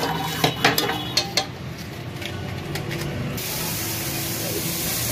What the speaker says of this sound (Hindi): अब मैं ये सारे मसाले इसके अंदर ऐड करूंगी, सारे मसाले इसके अंदर मिक्स करूंगी, इसको भून लूंगी